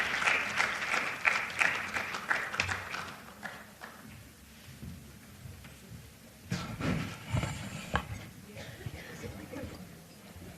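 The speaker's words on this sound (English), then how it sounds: "Can we give her another round of applause?" Applause from the audience at the Women Political Leaders Summit, clapping rising and fading in uneven waves, loud at first, thinning out midway, then swelling again, with some murmured voices underneath.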